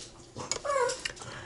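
A pet dog gives a short, close whimper with a rising whine, one brief vocal burst amid quiet indoor room sound.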